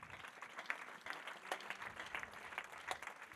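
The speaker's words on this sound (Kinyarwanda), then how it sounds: "mukomere Imana amashyi" A church congregation claps together during a Pentecostal service, a steady patter of many hands with a few sharper peaks, continuous throughout at moderate distance.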